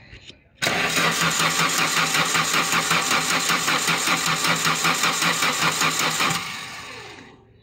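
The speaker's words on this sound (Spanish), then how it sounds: "Vamos a darle marcha." A VW Pointer engine cranks on the starter for about six seconds without catching, giving a steady rapid rhythmic churn that is loud and close, then cuts off.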